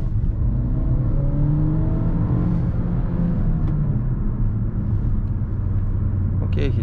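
Suzuki Vitara 1.4 Turbo Allgrip with a six-speed manual accelerating at full throttle in sport mode, a steady low engine drone with a rising pitch heard from inside the cabin.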